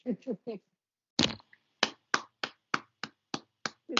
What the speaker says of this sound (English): We should clap, I suppose